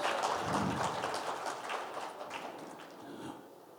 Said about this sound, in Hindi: हम बात का सिलसिला शुरू करें जोरदार तालियों के साथ।